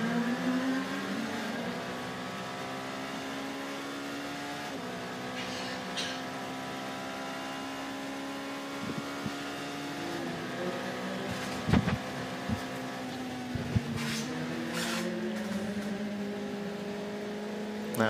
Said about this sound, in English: Now, going by him, one of the LMP1 cars